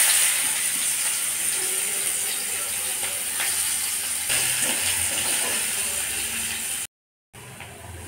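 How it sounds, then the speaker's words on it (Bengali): Chopped onion with black cumin seeds sizzles in hot oil, a steady bright hiss with faint clicks and crackles, close and continuous, briefly cutting to silence near the end. "তেলের মধ্যে কালো জিরে দিয়ে নিয়েছি, এটা দিয়ে ভাজা ভাজা হবে। আমি দিয়ে দেব পেঁয়াজ কুচি।"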